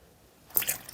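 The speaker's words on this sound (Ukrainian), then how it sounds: "Безопарним способом наливаю молоко" Milk is poured into a yeast dough mixture for steamed varenyky: a short wet splash and trickle starts halfway through, close and moderately loud over a quiet room.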